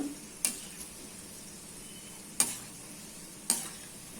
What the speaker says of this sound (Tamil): நான் கடலை எண்ணெய் ஊற்றினாலும் இந்த மாதிரி பொங்கிட்டு இருக்குது